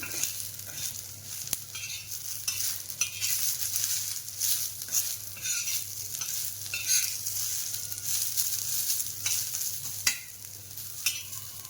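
Masala for mutton kala rassa being sautéed in a pan, with steady stirring and scraping over a continuous close sizzle, alone and unbroken throughout.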